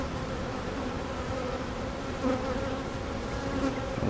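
Honey bees buzz at a backyard hive in a steady, close, droning hum, with individual bees rising and fading as they pass.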